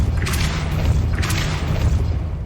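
Depulso spell cast in Hogwarts Legacy: a heavy booming magical blast with a deep rumbling low end, loud and close, followed by a second surging whoosh, with no voices over it.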